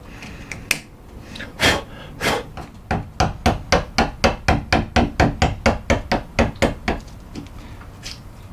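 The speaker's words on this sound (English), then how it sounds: "Now just slowly chisel away." A chisel driven into wood to cut a mortise onboard a cruising catamaran, with a rapid run of about twenty sharp, evenly spaced mallet-on-chisel knocks after a few slower strikes, close and loud.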